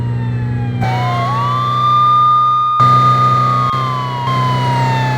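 A loud, wailing emergency siren rises and falls steadily over a constant engine hum, with abrupt cuts suggesting game audio; nobody speaks. A siren fitted to a Volkswagen Passat in Euro Truck Simulator 2.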